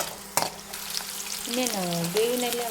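Chopped onion frying in a pan for paneer butter masala, a steady low sizzle with a sharp clack near the start and a brief tonal whine or voice-like hum toward the end.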